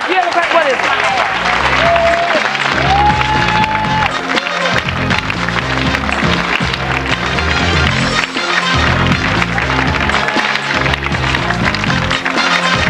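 Studio audience applause on a daytime talk show, a loud, dense and steady clatter of many hands lasting throughout, with voices and cheering mixed in over it.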